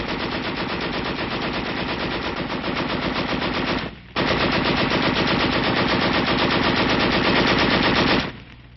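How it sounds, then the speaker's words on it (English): A machine gun fired from the hip during troop training lets off two long, loud, continuous bursts of rapid fire, separated by a brief pause. "a demonstration of hip shooting with a machine gun"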